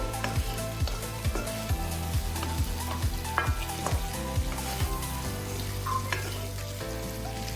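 Mutton and curry leaves sizzling in a hot pan while a spoon stirs and scrapes in a steady rhythm, close and continuous with no talk.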